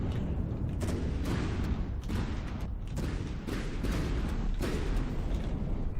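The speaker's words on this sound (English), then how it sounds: "Goths are firing their cannons down on my tanks" Repeated heavy booming cannon blasts in the video game From the Depths roll over a dense, constant rumble of battle noise, thudding every second or so in an unbroken loud wash.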